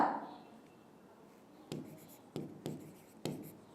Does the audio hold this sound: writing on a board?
yes